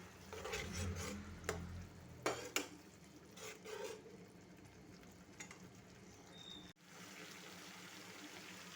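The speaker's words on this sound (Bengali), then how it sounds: "এবার কিছুক্ষণ নাড়াচাড়া করে নিন।" Banana flower ghonto cooks with ground chilli, coriander, cumin and turmeric as a spatula scrapes and knocks around the pan in irregular strokes over a quiet sizzle, with a few sharper clanks.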